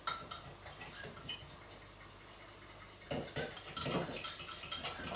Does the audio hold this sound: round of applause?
no